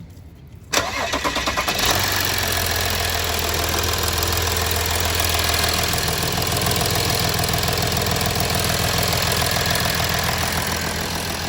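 An Audi A6 3.0 V6 TDI diesel cranks and fires after a service with new oil, air and fuel filters, then settles into a steady, loud idle with a faint clatter that runs on without a break.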